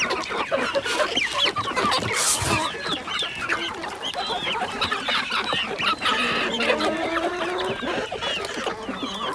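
Young chickens cluck and cheep continuously while drinking warm water poured for them in the early morning, a busy flock of overlapping short calls, close by and with no talking.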